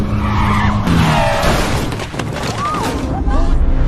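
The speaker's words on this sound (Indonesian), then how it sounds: "dengan nekat melakukan pengereman secara mendadak" A car brakes suddenly and its tires skid, with screeching squeals and a rumbling crash-like mix under voices.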